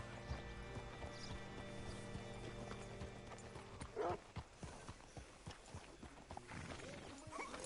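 Steady clip-clopping of horse hooves in Red Dead Redemption 2, a brisk rhythmic trot with a short whinny near the middle, over a low ambient hum.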